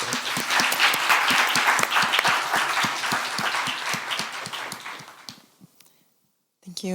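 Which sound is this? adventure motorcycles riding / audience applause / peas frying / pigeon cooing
audience applause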